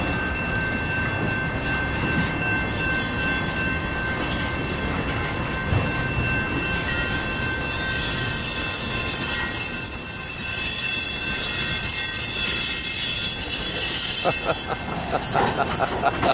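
CN freight train cars with boxcars roll along the track in Battle Creek, Michigan, their wheels giving off sustained high-pitched squeals over a loud, steady rumble close by, the squealing growing more intense toward the end.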